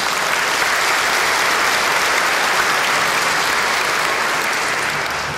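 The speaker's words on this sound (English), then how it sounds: "So please, another round of applause for our superintendent." Sustained, even applause from a large crowd at a high school graduation ceremony honoring the superintendent, loud and dense throughout with no pauses, tapering slightly at the very end.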